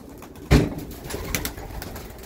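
A soft low pigeon coo rises once near the start, followed by quieter bird murmurs and rustling against a steady background hum.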